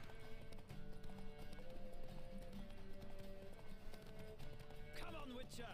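Horse hooves clip-clop steadily in The Witcher 3, a moderately faint galloping rhythm through the clip that ends in a brief whinny-like rise near the end, with no talking.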